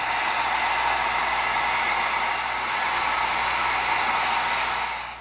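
A heat gun blowing on an EVA foam thumb piece to heat-shape it, a loud, steady, close airy roar that holds for several seconds before cutting off, with no talking.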